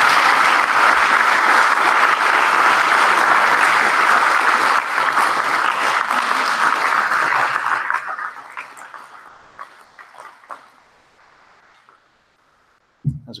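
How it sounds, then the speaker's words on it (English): An audience at a recovery meeting gives a round of applause for a speaker on birthday night, sustained clapping for about eight seconds that then thins out into a few scattered claps and fades to near silence. "why don't we give one more round of applause to Matt"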